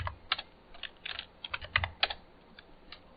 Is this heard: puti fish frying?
no